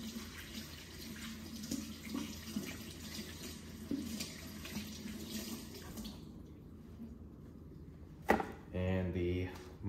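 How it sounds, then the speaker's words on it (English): Tap water runs steadily into a sink as celery is washed, a close hiss broken by splashes and handling noises, then a sharp knock followed by a louder gush near the end. "But we'll wash all the celery."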